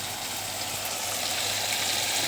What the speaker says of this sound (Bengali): এখানে হচ্ছে ধীরে ধীরে করে আলু ভাজি